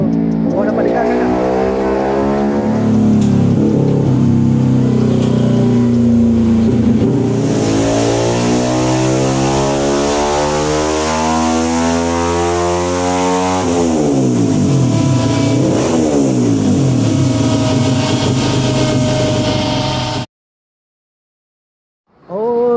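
A Yamaha LC4S motorcycle engine converted from carburettor to fuel injection revs hard on a dyno, its pitch sweeping up and down through repeated loud runs before cutting off abruptly near the end.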